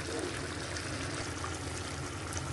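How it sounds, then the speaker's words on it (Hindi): Tomato and onion paste poured into chicken cooking in a pan for a Chicken Angara curry, giving a steady, close wet pouring and sizzling wash that runs without a break and with no talk. "अब हम इसमें अपना टोमेटो अनियन पेस्ट डाल देंगे"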